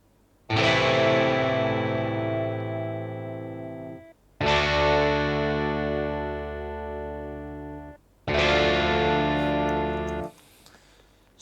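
Three sustained guitar chords, each spread out like a strum, played in Logic Pro for an opening theme, ringing bright and distorted with chorus and echo, each held about four seconds before cutting off.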